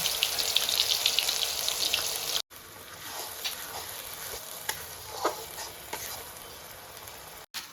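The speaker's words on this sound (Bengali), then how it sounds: "এই যে তেল গরম হয়ে গেছে, আমি এই যে পেঁয়াজ, আদা, রসুনের পেস্টটা ভেজে নেব আগে।" Onion, ginger and garlic paste fries in hot mustard oil in a kadai with a loud, steady sizzle and crackle. Occasional stirring scrapes break through, and the sound cuts out briefly twice.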